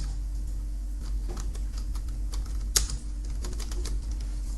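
Typing on a computer keyboard while entering a company name, a quiet run of light, irregular key clicks over steady low hum, with one sharper tap near the middle and no talking.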